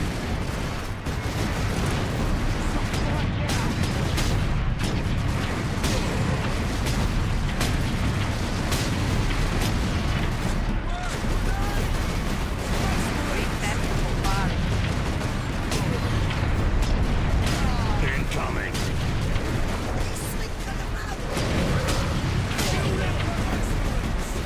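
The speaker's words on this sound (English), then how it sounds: "Incoming fire." Heavy artillery barrage in Warhammer 40K: Space Marine, a dense, continuous roar of booms and rumbling impacts with mechanical clatter, loud throughout, with voices talking over it.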